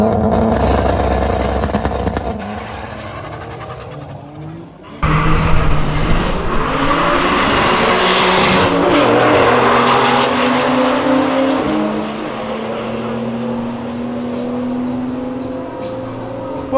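A BMW and a Lamborghini in a street race roar past loudly up close, their engines revving hard and shifting through gears, a sudden burst giving way to a sustained howl that slowly fades as they pull away.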